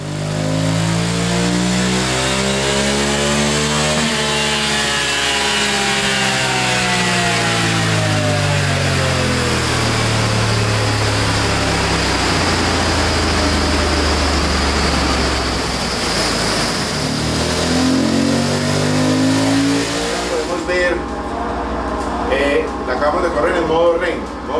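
A KTM 790 Adventure or BMW F850GS adventure motorcycle engine revs up and down in sweeping rises and falls while switching riding modes, loud and close, with someone talking over it throughout.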